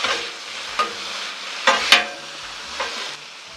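Green beans frying and being stirred on a Blackstone griddle with a splash of red wine vinegar, a steady close sizzle broken by several sharp scraping and stirring clatters.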